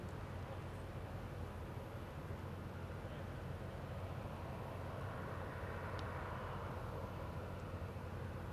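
A Boeing 787-9 Dreamliner moving out onto the runway at the Farnborough Airshow, a steady low engine rumble and broadband roar heard from a distance, constant throughout with no clear rise or fall.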